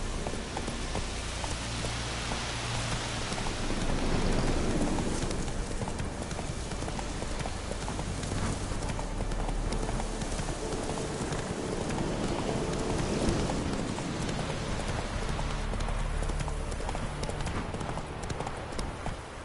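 Horse hooves clip-clop in a steady, continuous gait in a PS4 video game, mixed with a rain-like patter and a soft ambient wash.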